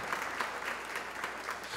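A church congregation claps for Jesus during a sermon, steady rhythmic hand claps filling the room at a moderate, somewhat distant level with no talking over it.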